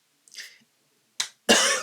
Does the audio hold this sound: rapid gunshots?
no